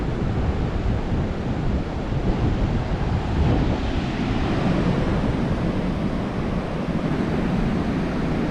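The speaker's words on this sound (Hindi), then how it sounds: "काफ़ी तेज़ लहरें गलगीबागा बीच पर, काफ़ी तेज़ लहरें। वो देखिए चट्टान से टकराती हुई," Strong surf pounds against rocks on Galgibaga beach in Goa, a continuous loud roar of breaking waves mixed with heavy wind noise on the microphone, no voices present.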